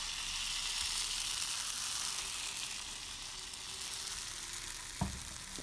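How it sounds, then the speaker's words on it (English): Fermented appam batter cooking in a hot pan, a soft, steady sizzle and hiss that continues evenly, with a faint clink near the end. "Add batter and swirl it around."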